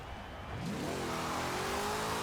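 Forza Horizon 4 wheelspin drag build car spinning its tires on a slippery surface at launch, engine pitch sweeping upward into a loud, sustained revving whine with a squealing edge.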